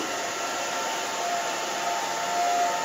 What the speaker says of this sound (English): And then I'm just drying the back of her hair down.